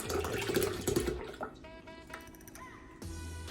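Milk is poured into a pitcher for homemade aguas frescas, a soft liquid trickle and glug that fades, comes back in short spurts, then swells briefly near the end. There is no speech.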